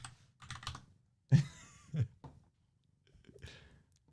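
Clacking keys on a computer keyboard come in short, irregular bursts of typing, close and fairly clear, with brief pauses between clusters of keystrokes during a livestream.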